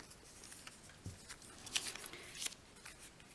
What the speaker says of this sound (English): And then I took my scissors